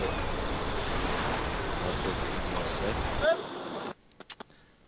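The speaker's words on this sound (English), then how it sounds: "we're seeing these waves crashing over the boat" Simulated waves crash and surge against a sailing boat racing in the Volvo Ocean Race, Lisbon to Cape Town leg, in the Sailaway simulator, a steady roaring wash with wind noise that cuts off abruptly near the end.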